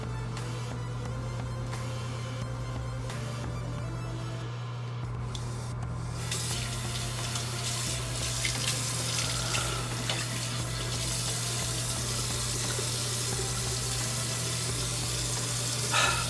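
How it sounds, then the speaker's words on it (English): Tap water runs steadily over a Gillette Mach 3 disposable razor head being rinsed in a sink, a continuous close hiss and splash with a low hum underneath. "Let me rinse this head off since I got stuff everywhere."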